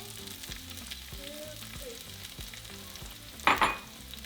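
Onions and poblano chiles fry in hot oil with a soft, steady sizzle. A louder crackling flare near the end suggests stirring.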